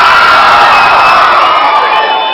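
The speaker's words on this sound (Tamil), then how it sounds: "நம்ம மாணவிகளுக்காக பலத்த கைத்தட்டு கொடுக்க முடியுமா?" A college Pongal celebration crowd cheering and clapping loudly for the students, a dense sustained roar of voices and applause filling the space, tapering slightly near the end.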